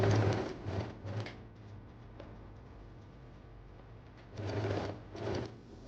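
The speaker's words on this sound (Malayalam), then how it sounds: "ഇനി നമുക്ക് ഇതിൻ്റെ മുകളിലൂടെ ഒന്ന് പതിച്ചടിച്ചു കൊടുക്കാം." Sewing machine stitching a neck design on a garment, rapid mechanical clatter in bursts separated by quieter pauses, fairly close and unaccompanied by talk.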